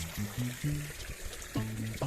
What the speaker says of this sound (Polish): Bo to jest woda tylko i wyłącznie z tej fontanny.